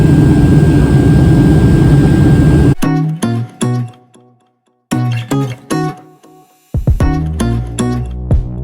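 Inside a jet airliner on landing approach, a loud, steady broadband engine roar fills the cabin for a few seconds, then cuts off and gives way to a series of clear tonal notes.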